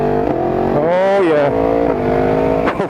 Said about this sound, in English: 1000cc cross plane 4-cylinder engine is just a peach.